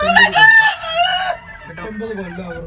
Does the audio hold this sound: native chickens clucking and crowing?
yes